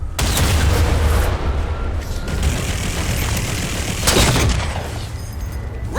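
Heavy railgun fire from the Halo 4 video game: a dense, loud barrage of booming blasts and crackling gunfire runs throughout, with a sharper burst near the end.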